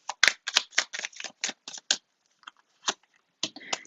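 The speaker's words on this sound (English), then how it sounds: "These cards are kind of hard to shuffle." Stiff, fairly new tarot cards being shuffled close up, a run of sharp papery snaps and riffles in quick irregular bursts, then a pause and a few scattered flicks, with no voices.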